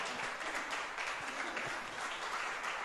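Church congregation applauding during a Spanish-language sermon, a thick, even wash of many hands clapping heard from across the room, sustained for about three seconds without speech.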